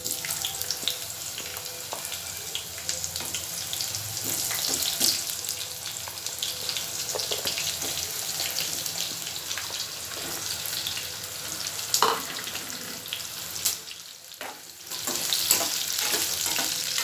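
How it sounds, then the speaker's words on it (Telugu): Raw banana pieces frying in a pan of hot oil, a loud continuous hissing sizzle with occasional crackles, briefly dipping before surging again, close and with no talk. "ఇందులో ఇవి అరటికాయ ముక్కలు వేద్దామండి."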